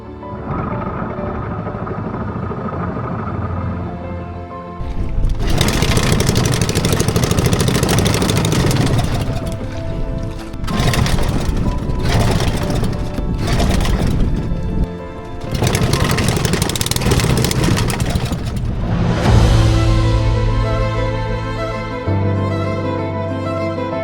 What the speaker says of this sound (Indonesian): Suara mesin akhirnya terdengar lagi